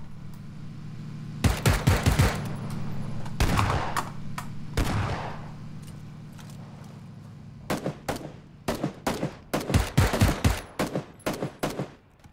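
Gunfire in the battle royale video game PUBG: loud, close bursts and single shots, with a cluster of rapid repeated shots toward the end, and no talk over them.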